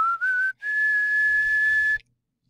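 A whistle sample loops in a Max 7 music patch, giving a bright, steady high-pitched tone with a short break near the start, then a long held note that stops abruptly, heard alone.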